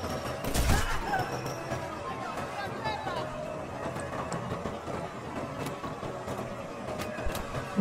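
Gunfire in the Sniper Elite 4 video game, a sharp loud shot near the start followed by scattered fainter cracks and impacts over a rumbling background, with a voice talking throughout.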